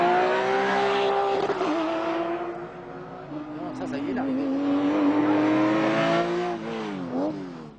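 Roscar racing cars passing on the Magny-Cours circuit, their loud engine whine sliding up and down in pitch with gear changes as one car overtakes another near the finish line.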